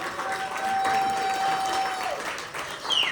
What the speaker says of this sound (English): Once again, ladies and gentlemen, a big round of applause for Lolita Singh.